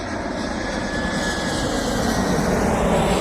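A fixed-wing airliner comes in to land at Amsterdam airport, its steady jet engine roar holding loud and broad throughout with a faint whine above, heard from a nearby spotting place with no talk.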